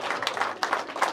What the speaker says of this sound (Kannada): please give a big round of applause